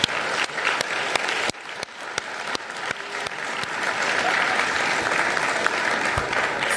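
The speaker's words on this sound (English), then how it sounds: "Let's give them all a round of applause." Applause rises from the audience at a Coconut Creek city commission meeting, starting with scattered distinct claps that build into a steady, fuller round of clapping across the room.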